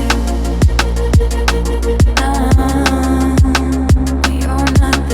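A liquid drum and bass track plays loudly, with a steady punchy kick and snare pattern driving under sustained warm pads and melodic layers, no voices.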